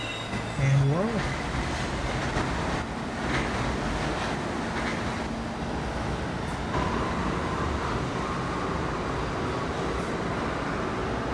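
An R68 subway train in a train simulator game pulls away on the M line, a steady rumbling roll with wheel and track noise that holds at an even level throughout, with no talk.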